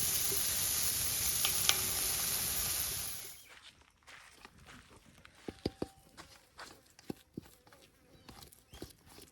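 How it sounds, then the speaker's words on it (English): Onion and bacon sizzle loudly in a camp oven for a few seconds, then the frying fades out and gives way to scattered clinks and knocks of cookware and utensils. "The onion and the bacon, we're just browning off before we add it to the mashed potatoes"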